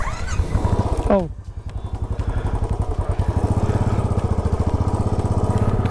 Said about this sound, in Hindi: पैदल नहीं जा रहे हैं, बुलेट से जा रहे हैं हम अपने।